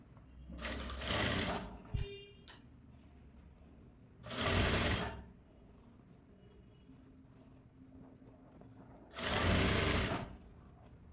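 A sewing machine stitches a blouse seam in three distinct bursts of rapid mechanical whirring, each lasting about a second, separated by quiet pauses with faint handling noises.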